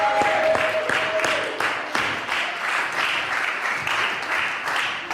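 A church congregation applauds the Lord during a sermon, a dense sustained wash of many hands clapping at steady loudness throughout, with a brief held tone near the start.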